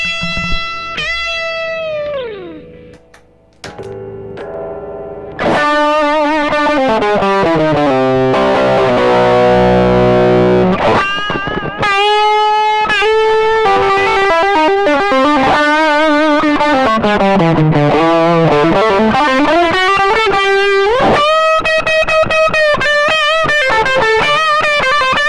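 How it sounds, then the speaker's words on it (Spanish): Squier Classic Vibe electric guitar by Fender played through overdrive, loud distorted chords and sustained melodic lines ringing continuously after a brief quieter opening, with no talking. "Ahora vamos a escucharla con un poco más de drive."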